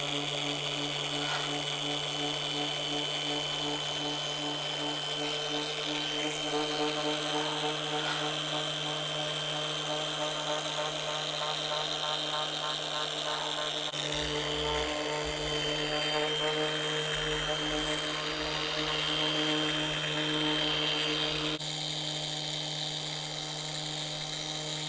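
Power polisher buffing compound onto a car headlight during a restoration, a steady high-pitched motor whine with harmonic overtones running continuously and loudly, shifting slightly in pitch partway through as the speed or pressure changes.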